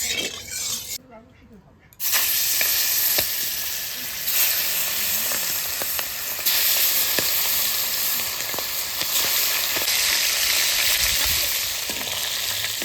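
Magur catfish pieces, rubbed with salt and turmeric, fry in oil in a wok, giving a loud continuous sizzle after a brief quiet start, with occasional stirring clinks and some talking.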